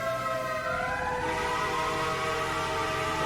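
A newer-model Q fire truck siren in the video game EmergeNYC wails loudly and continuously, its tone sweeping upward and holding steady under a constant roar.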